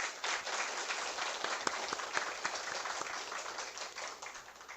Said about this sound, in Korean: 모두 큰 박수를 부탁드립니다.